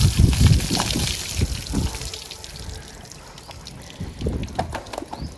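Water thrown in splashes and trickles to wash children on a farm, with a burst of heavy dousing at the start and further intermittent sloshes, fairly close and moderately loud.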